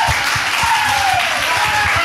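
Crowd applause at a LAN party meetup during a karaoke competition, a steady wash of clapping from many people, with a voice faintly audible underneath.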